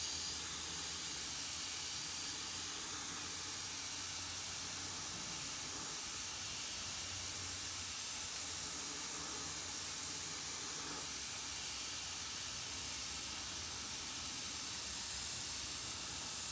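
Airbrush spraying paint onto a model's vampire lips, a steady, even airy hiss running unbroken and close for the whole stretch with no talk.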